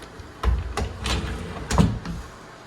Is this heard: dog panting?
no